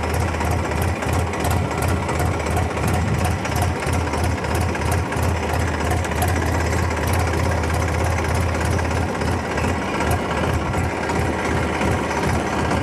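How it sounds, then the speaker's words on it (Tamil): A Massey Ferguson 7250 tractor engine runs loud and close while the tractor backs up in reverse gear, a rapid, steady mechanical knocking chug with a constant low drone throughout. "வண்டி இப்போ ரிவர்ஸில் மூவ் ஆக ஆரம்பிக்கும்."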